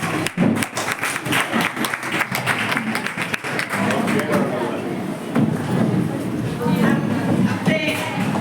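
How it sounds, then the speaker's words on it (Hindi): Loud, sustained clapping from a crowd of women welcoming a chief guest at a One Nation, One Election event, steady and dense throughout with a voice speaking over parts of it. "हम सभी बहनें जोरदार तालियों से आपका स्वागत, अभिनंदन और वंदन करते हैं।"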